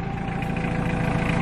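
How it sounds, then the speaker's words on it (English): A tractor engine idles on a farm, a steady, fairly loud low rumble with a constant drone that holds evenly throughout, alone without talk. "What is that? The tractor."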